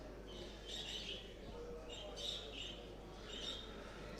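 Budgerigars squawk and chirp in short bursts at a national championship bird show, their calls fairly faint and mixed into steady hall noise with people talking.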